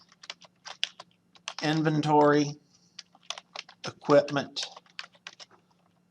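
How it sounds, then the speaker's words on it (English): Quick, light keystrokes click away on a computer keyboard as text is entered into an inventory table, scattered across the moment and continuing under a voice that speaks intermittently nearby. "I'm going to start by typing the text"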